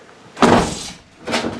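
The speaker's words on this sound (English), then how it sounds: "you can open up this door." Door on a 2020 Ford Transit 350 low-roof van swinging shut in two broad, close thuds about a second apart, with no talk over them.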